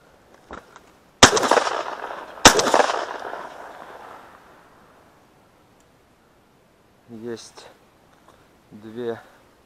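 Two loud, sharp shotgun blasts ring out a second apart at rising ducks during an autumn hunt, echoing and decaying, followed later by short bursts of distant quacking.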